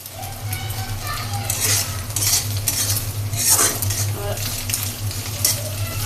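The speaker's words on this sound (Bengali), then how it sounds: "ডিমটা এখন একটু ভাজবো।" Egg fries in a pan, with steady sizzling and scraping of a spatula or spoon stirring against metal, plus occasional utensil clinks and a low hum underneath.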